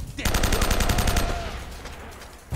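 Rapid gunfire in the video game Uncharted: Drake's Fortune, a loud burst of automatic shots in quick succession that fades into a short echoing tail, with a little talk.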